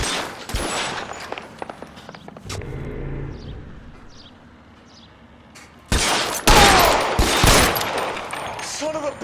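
Bursts of gunshots in an L.A. Noire shootout, loud sharp cracks at the start and a dense heavy volley near the end, separated by a quieter stretch of rumbling background and faint voices.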